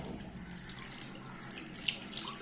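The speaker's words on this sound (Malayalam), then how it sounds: "ഞാൻ സാധാരണ വെള്ളം വച്ചിട്ട് പൈപ്പിൽ വെറുതെ അങ്ങ് ഒഴിക്കുകയാണ്." Plain water poured into a kitchen sink drain pipe, a steady close splashing trickle that swells briefly near the end, with no talking.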